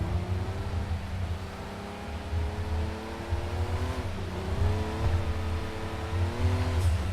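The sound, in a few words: GT3 race car engine, from a video game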